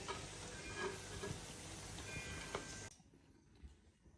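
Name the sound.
alu vadi (colocasia rolls) deep-frying in oil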